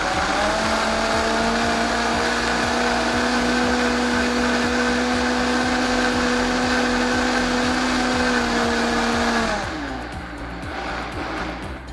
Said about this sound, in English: I blended that all up on high because I want all of those to get nice and finely chopped